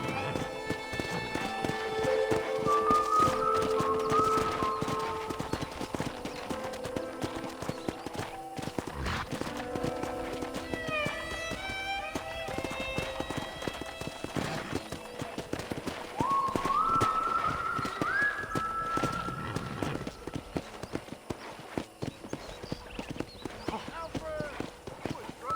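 Hooves clip-clop steadily on a ranch as a horse is ridden in Red Dead Redemption, rhythmic and continuous beneath game sounds, with a couple of whinnies and people talking throughout.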